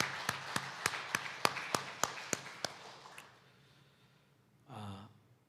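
A church congregation at an anniversary worship service claps in a steady, even rhythm of about ten beats, then the clapping fades into quiet and a brief breathy voice sound follows.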